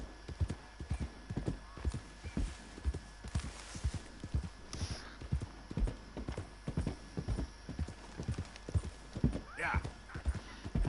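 A horse in Red Dead Redemption 2 clip-clops along with steady, evenly spaced hoofbeats, close and clear, with a brief whinny near the end and faint talk in the background.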